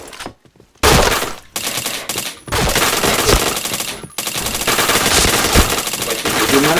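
Rapid machine-gun bursts and gunshots in an online team shooter match with tanks, loud and nearly continuous after a brief quiet opening, with sharp breaks between volleys.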